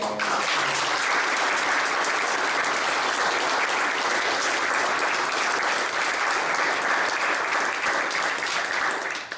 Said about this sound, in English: please give one last round of applause to David Williams